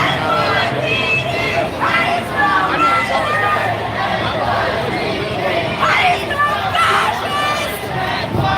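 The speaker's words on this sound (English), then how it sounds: "So pretty significant crowd here, to say the least." Large crowd chatter, a dense babble of many voices with occasional shouts rising above it, close and steady the whole time.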